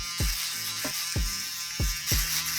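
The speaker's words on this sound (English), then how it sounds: "Come back with your electric shaver." An electric shaver buzzes steadily and close during a high-fade buzz cut on straight hair, its hum dipping in a series of repeated pulses as it passes over the head.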